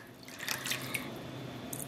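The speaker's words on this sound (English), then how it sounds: "I'm bringing over another 4 cups of water." Water poured into a dye pot for dyeing a roving braid, a steady splashing trickle with a few brighter drips, close and fairly quiet with no talking.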